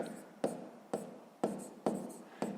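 Pen or pencil on paper writes out a math calculation for a sixth-grade exercise: rhythmic scratching strokes in short bursts, each starting with a sharp tap, close and quiet.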